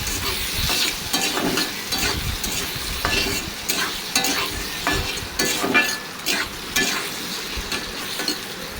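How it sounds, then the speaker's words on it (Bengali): Sliced potatoes frying in oil in a wok, a continuous sizzle broken by repeated scraping stirs of a spatula against the pan, close and fairly loud, with no speech. "এই দেখো আলুগুলিকে ভেজে নিচ্ছি।"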